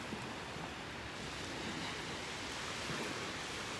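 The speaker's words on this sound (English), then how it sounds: "Get you closer to the water, hear the waves." Ocean surf rolling onto the beach in North Naples, Florida, a steady broadband wash that stays continuous and moderately loud, with some wind rumble and no talking.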